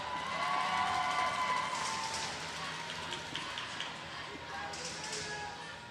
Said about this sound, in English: they're starting a cheer for Team Quebec